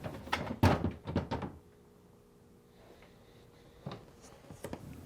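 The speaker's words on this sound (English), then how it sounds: "Now, remove the top drawer by sliding it out and lifting up." A Whirlpool refrigerator freezer drawer is slid out and lifted, giving a cluster of loud plastic thunks and rattles, then a quiet pause and a few softer knocks as it settles.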